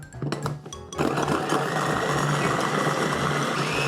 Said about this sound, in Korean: 요즘엔 시간도 없고 좋은 제품들이 많이 나와 있어서 이 다지기를 사용하고 있어요